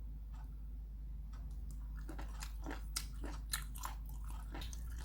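Someone eats blanched wood ear mushroom dipped in sesame oil sauce, with soft crunchy, squishy chewing bites close to the mic over a faint low hum, growing more frequent midway.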